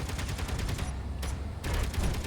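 Gatling turrets in Space Engineers fire rapid, dense bursts of gunfire with a brief lull midway before the stream of shots resumes, steady and fairly loud throughout.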